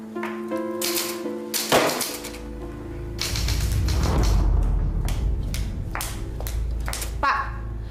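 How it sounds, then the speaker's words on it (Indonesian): An old, rickety manual typewriter clacks in a burst of irregular keystrokes, with thuds and rattling clatter over a low background hum in a room. "Mesin tik tua ini penyebabnya. Udah reot, suaranya berisik banget."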